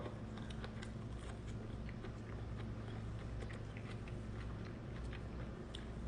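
Close-up wet chewing and biting of jackfruit, steady crunchy and squishy mouth sounds over a constant hum, with no talking.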